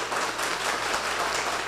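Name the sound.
audience applauding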